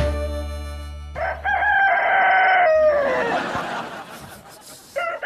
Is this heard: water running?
no